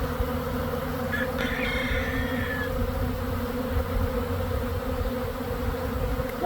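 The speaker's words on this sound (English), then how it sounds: "a swarm of bees were flying past our window" A honeybee swarm pours into a small nucleus hive with a dense, continuous buzzing drone. The hum is steady and close, with a few brief higher whines of individual bees passing near.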